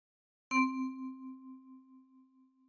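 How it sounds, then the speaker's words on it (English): One kalimba key plucked by the right thumb gives a single clear metallic tone that rings and slowly fades with a gentle wobble, close and quiet, with nothing else heard. "With your right thumb, pluck 1."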